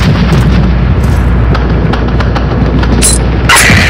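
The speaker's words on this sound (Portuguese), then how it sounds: "Bomba na área!" Loud, dense rumbling boom of a bomb explosion in a video game, filling the whole stretch with heavy low-end roar and scattered crackles, with a sharper burst near the end.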